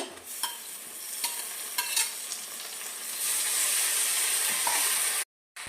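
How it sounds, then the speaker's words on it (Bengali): Chopped onions and tomatoes fry in a pan for a luchi-tarkari curry, a steady sizzle with scraping stir strokes that swells into a louder, denser hiss partway through before a brief cut. "এবার আমি দিয়ে দেব কুচি রাখা পেঁয়াজগুলো এবার দিয়ে দেবো আমি টমেটো কুচিগুলো"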